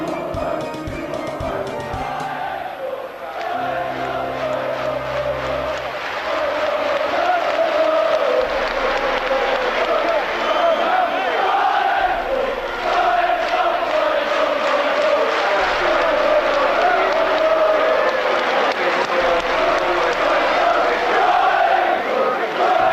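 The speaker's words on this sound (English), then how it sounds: "The match is over, but the crowd won't leave." Football crowd on the terraces after a Nottingham Forest match, a loud, sustained roar of chanting and cheering that swells after a brief quieter start and carries on throughout.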